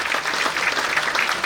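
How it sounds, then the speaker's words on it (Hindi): An audience at a book launch ceremony at the Aurangabad Haj House claps steadily and loudly, a dense, sustained round of applause with no voices over it. "जोरदार तालियां, तालियां आपकी जारी और सारी रहनी चाहिए"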